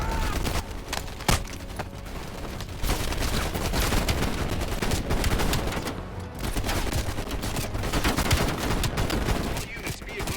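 Dense, continuous gunfire from a 1911 pistol and other weapons during a Call of Duty Black Ops Cold War firefight, loud and close throughout, with one sharp crack standing out early on.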